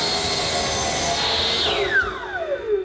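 Wood lathe turning a croquet mallet shaft to cut away drive center marks, a steady loud whirring hiss, with a falling whine near the end as the spinning slows.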